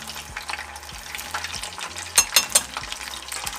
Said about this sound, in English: nice frying sound.